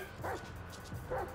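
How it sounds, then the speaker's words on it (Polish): Dog in Grand Theft Auto 5 giving two short, fairly faint barks about a second apart over low background noise. "Nie no, ten pies jest wolny."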